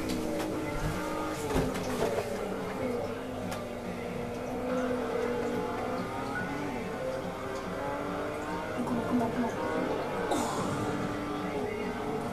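Race car engines in Forza Motorsport 3, a continuous droning engine tone with shifting pitch and occasional tire noise, steady and moderately loud throughout.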